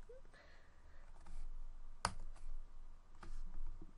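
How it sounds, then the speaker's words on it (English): A command typed on a computer keyboard: a short run of faint, quiet keystrokes with one sharper click near the middle. "you open the command line, and you type"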